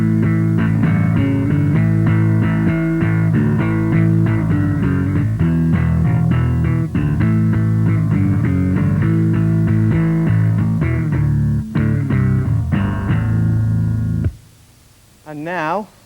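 Heavy metal style strummed full chords on an instrument played like a guitar, loud and dense with steady rhythmic strokes ringing continuously before cutting off into a short wavering tone at the end.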